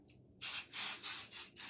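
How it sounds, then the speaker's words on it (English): Spray adhesive hisses from a can onto fabric layers while a bag is being sewn, several short close bursts of airy spray with brief gaps between them, fairly quiet and with no talk. "Just give that a spray."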